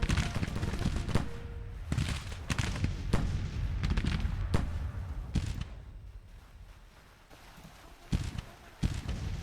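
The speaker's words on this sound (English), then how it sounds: "These guys moving and shooting." Musket volleys from soldiers in a Civil War strategy video game, with irregular bursts of shots near and far, fading in the middle and then returning in scattered sharp cracks.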